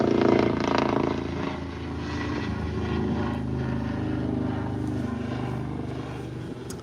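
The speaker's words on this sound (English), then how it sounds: "That helicopter you hear is the" EMT medical helicopter coming in to land over Gettysburg before sunset, a steady low rotor drone with broadband rumble that stays fairly loud and even throughout, no talk over it.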